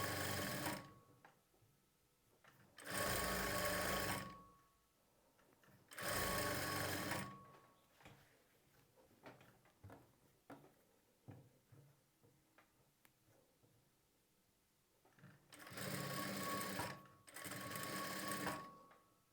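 A sewing machine stitches thread piping onto a blouse in several short bursts of rapid mechanical whirring, separated by quieter pauses filled with faint handling clicks.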